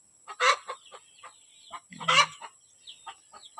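Chickens cluck and squawk nearby in short, uneven bursts, with one louder rising call in the middle and softer chatter between.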